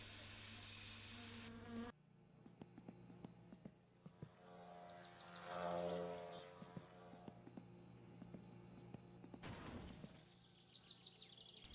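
Wasp buzzing in the My Summer Car driving game, a faint intermittent insect drone that swells to a louder pass midway, among quiet clicks and other game noises.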